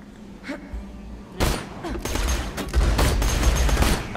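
Gunfire in the video game Borderlands 2, a rapid, loud volley of shots breaking out after a quieter start and continuing in dense bursts with heavy thumping impacts.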